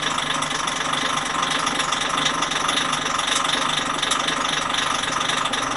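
A Hyundai engine runs with its transmission put in gear, giving a steady, loud, unbroken hum and whir with a fairly bright mechanical edge and no voices over it.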